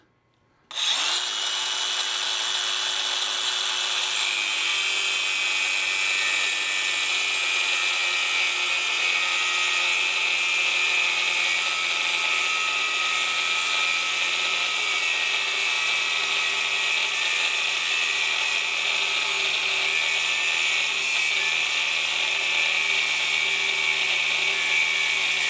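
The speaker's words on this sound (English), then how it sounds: "we're going to take an abrasive cutoff wheel here, try and cut this guy off" An abrasive cutoff wheel grinding through a metal part, starting abruptly after a short silence and then holding a loud, steady high-pitched whine that goes on uninterrupted without voices.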